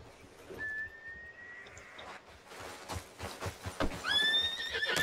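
A horse in Red Dead Redemption 2 gives a loud whinny near the end, over a steady clip-clop of hooves and a soft whistle earlier in the clip.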